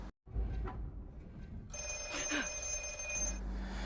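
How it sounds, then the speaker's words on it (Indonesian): A black telephone rings in the horror film The Black Phone, a bright metallic bell ring bursting in partway through after a quiet dark room ambience, clear and close. "namun ia malah kembali mendengar telepon hitam yang berdering"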